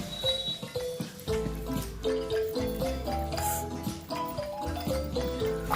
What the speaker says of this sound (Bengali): এবার কুয়ো থেকে যে জলটা তুলে রেখেছিলাম সেই জলটা দিয়ে এবার আমি ঘুগনিগুলো ধুয়ে নেব।